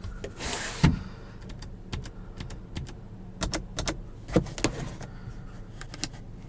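The sunroof of a 2021 Kia Forte GT opens from inside the car, a short motor whir followed by scattered clicks and soft taps, close and fairly quiet with no talking.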